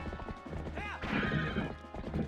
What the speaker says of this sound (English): You're kicking the horse to go faster.